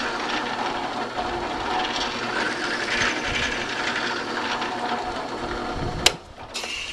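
A drill press boring a starter hole in a piece of wood, with a steady close motor whir and grinding cut running throughout, ending in a sharp click and a brief lull.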